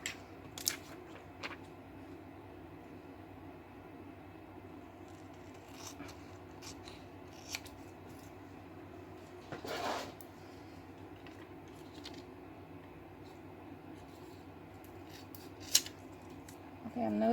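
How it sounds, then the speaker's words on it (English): Scissors snip laminated paper into small squares for faux coin protectors, a few sparse, quiet cuts spread across a steady low room hum, with a slightly louder rustle near the middle. "Looking for my scissors."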